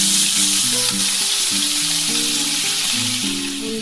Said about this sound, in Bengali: এবার আমি একটা একটা করে মাছ ছেড়ে দিলাম।